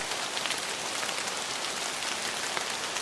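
Heavy rain pours down in Jaffna, a dense, even hiss of drops hitting surfaces that holds steady throughout, with a brief knock at the very end.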